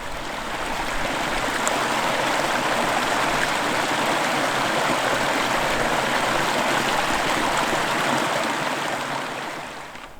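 A wilderness stream in Lemmenjoki flows in summer, a steady, full rushing and gurgling of water close by that stays even throughout.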